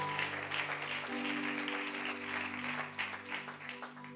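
Church worshippers give a continuous wash of applause, fairly soft and even throughout, with a low sustained musical tone running underneath.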